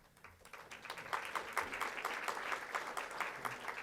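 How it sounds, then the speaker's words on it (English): Applause from a conference crowd at a mayors' small business event, starting sparse and quickly swelling into a fuller, even clapping that holds to the end, heard from a distance. "Yeah, you can clap for them."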